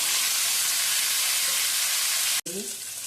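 Pumpkin tipped into hot oil with panch phoron, dried red chilli and bay leaf, giving a steady close sizzle and hiss of frying that dips briefly as the pieces drop in, then resumes with bubbling.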